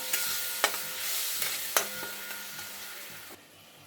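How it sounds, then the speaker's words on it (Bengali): Soaked spices fry with tomato in a pan for a fish curry, making a steady hiss. A few distinct spatula knocks and scrapes cut through it before the sizzle drops away near the end. No voices are heard. "এখন ভিজিয়ে রাখা মশলাগুলো দিয়ে দেব। মশলাগুলো কষাতে থাকবো।"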